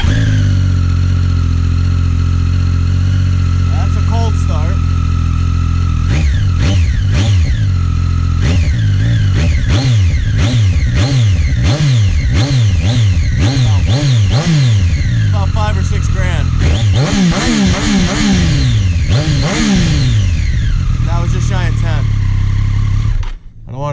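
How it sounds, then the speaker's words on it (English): A 2018 Triumph Street Triple R motorcycle with a Delkevic exhaust fires up from cold, its engine catching and settling into a steady idle broken by repeated sharp throttle blips that rise and fall in pitch, loud and close, with a person talking over it. "let me start it up. That's a cold start."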